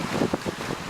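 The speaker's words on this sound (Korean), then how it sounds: "파도가 밀려와 갯돌끼리 부딪히는 소리는 100가지 소리를 낸다" Waves washing over a pebble beach at Gugyedeung in Wando, Korea, with rolling stones in a rough, continuous wash, soft low surges and a windy rush close by.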